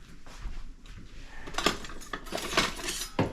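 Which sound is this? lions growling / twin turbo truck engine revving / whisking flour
whisking flour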